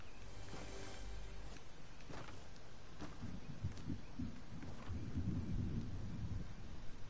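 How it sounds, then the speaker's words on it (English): Distant thunder rolls low and heavy during a game session, a steady rumble that swells in the second half, faint under a constant background hiss. "That's definitely the thunder."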